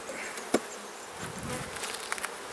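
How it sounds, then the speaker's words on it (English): Honeybees around a healthy hive during an inspection, a steady close buzzing hum with a few brief sharper knocks and louder passes of individual bees. "It's a nice looking hive, very healthy, lots of bees."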